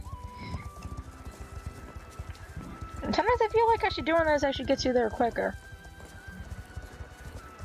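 Horse galloping at full speed in a first-person video game, a rapid, steady drumming of hooves running throughout, close and continuous under someone talking for a few seconds in the middle.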